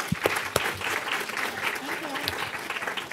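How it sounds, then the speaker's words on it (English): Panel audience at an autism entrepreneurship event gives the speakers another round of applause, moderate claps with a few sharp individual slaps, while voices and talk carry over the clapping. "Please join me in giving them one more round of applause."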